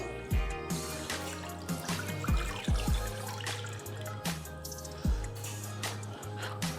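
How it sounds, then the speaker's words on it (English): Water is poured into a pineapple pie filling, giving a close liquid trickle with splashy drips and low thuds spread over several seconds. "to this I'll add 4 cups of water"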